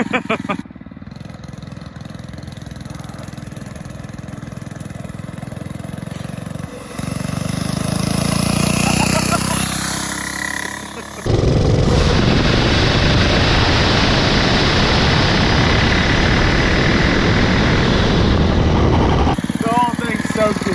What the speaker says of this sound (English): I'm gonna turn it on right at the road probably, and you'll hear it rev up and take off